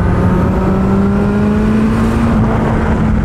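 A 300hp turbocharged Suzuki Hayabusa motorcycle accelerates hard in fifth gear, engine note rising steadily in pitch, with loud rushing wind. The sound is continuous, close and very loud, with no talking.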